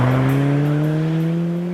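Alfa Romeo 4C sports car with a carbon fibre body, its engine note loud and steady, rising slowly in pitch as it drives close by, with no talk.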